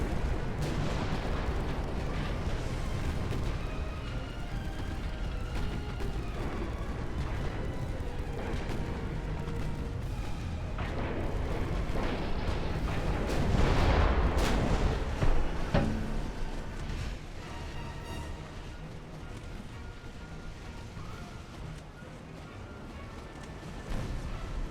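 Naval guns firing at ships in Ultimate Admiral: Dreadnoughts, with 1890-era hulls, producing a dense continuous rumble of booming salvos and crashing impacts, swelling into a heavier burst midway before easing.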